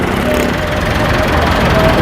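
Small decorated tractor engine running steadily nearby, a continuous low chugging drone across the whole stretch with faint voices in the background.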